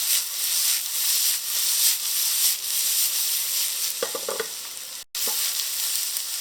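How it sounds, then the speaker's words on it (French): Spiced aubergines fry and sizzle in a pan with a steady hiss, while a utensil stirs them in a few short scraping bursts near the end, broken by a brief gap. "remets un peu tout ensemble."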